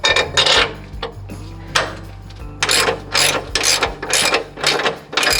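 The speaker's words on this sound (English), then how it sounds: "First thing we're gonna tighten up is the bottom bolt." Ratchet wrench tightening track bar mounting bolts on a lifted Toyota, giving repeated bursts of quick clicking strokes in an irregular rhythm, close and clear with no talking.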